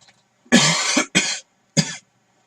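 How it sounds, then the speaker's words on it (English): Three loud, close coughs: one long hacking burst followed by two shorter ones, with brief pauses between and no talking. "I'm still trying to get rid of the cough."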